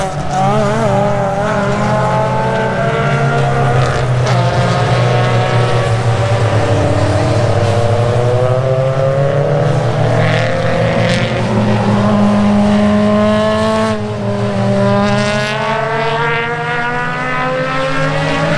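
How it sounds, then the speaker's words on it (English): A mixed field of Hyundai Excel race cars laps a street circuit in Townsville, with loud, continuous engine drone and rising and falling pitch as cars pass close by, plus occasional tire noise, for a long stretch without talk. "A wild bunch of cars, a bunch of mix of cars that are already having a good crack around here."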